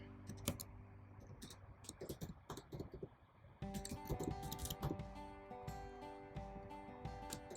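Quiet, rapid keyboard clicks of someone typing an address in English into an online smart ration card application, patterned taps over a faint background hum that grows busier midway.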